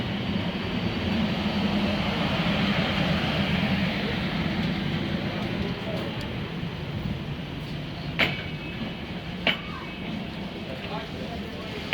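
A big train running in Romania, heard as a loud, steady rumbling roar throughout with a couple of sharp clanks near the end.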